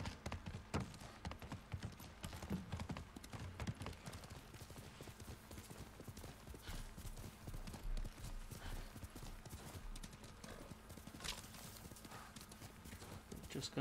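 Rapid clip-clop of horse hooves galloping steadily throughout in the video game Ghost of Tsushima, with a faint whinny and some background game ambience.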